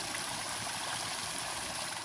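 A small mini waterfall and stream on a hiking trail at Tank Spring, a steady soft rush of flowing water, continuous and fairly quiet, with no voices.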